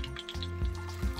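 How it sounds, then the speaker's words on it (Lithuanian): Water drips and trickles off soaked food in a kitchen, with faint irregular patters over about a second. "Nubėga vanduo šiek tiek."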